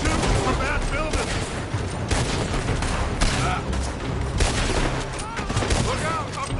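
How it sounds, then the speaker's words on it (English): Dense gunfire from a shootout in the Western video game Red Dead Redemption 2, shots fired from a building in rapid overlapping volleys and bursts, loud and continuous throughout with a speaking voice mixed in. "They're shooting from that building."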